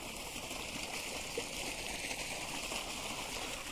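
Water rushes steadily through a field channel beside a sugarcane crop, fed by a motor pump; a continuous, fairly even wash of flow with no talk over it.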